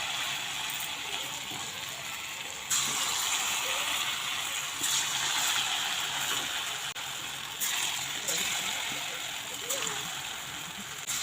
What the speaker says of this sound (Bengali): তেলটা গরম হয়ে গেছে। এবার এর মধ্যে বড়াগুলো দিয়ে দেবো।